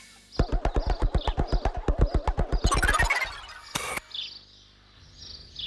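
A sparrow calls near stone walls in a rapid run of about twenty sharp, evenly spaced chirps that blur into a trill, then a short pause and a few fainter chirps, close and clear.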